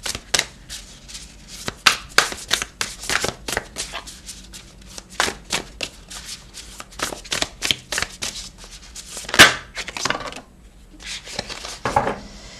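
Tarot cards being shuffled by hand, a rapid run of crisp riffling and slapping bursts at close range, stopping briefly near the end before a few more card snaps; no talking.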